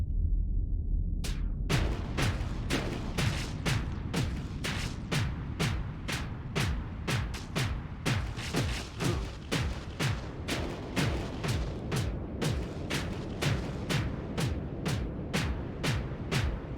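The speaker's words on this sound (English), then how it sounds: "Switch to the ion cannon, disable some of the weapons on the Enforcer." Rapid repeated heavy blasts of an ion cannon firing from a spaceship in the game Starsector, in a steady rhythm over a low rumbling background, volley after volley.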